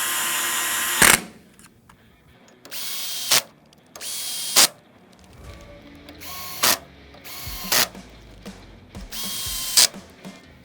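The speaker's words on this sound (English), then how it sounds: "Once I've got them all run in by hand with the drill" Cordless drill driving handguard rail screws on a rifle rail system, short loud motor bursts about once every second or two, separated by quiet pauses while the bit is moved to the next screw.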